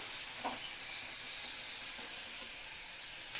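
Chopped tomato sizzles steadily in a hot pan, a faint, even broadband hiss with a few soft pops and no voices.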